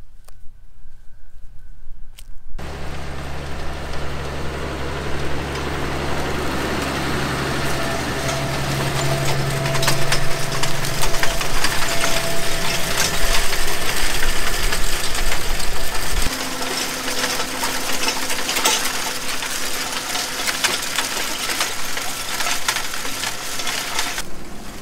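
A tractor pulling a Vart Agro roto-étrille rotary harrow across a field, heard as a loud, continuous engine drone with a rattling mechanical clatter that steps down in pitch midway, close and with no voices over it.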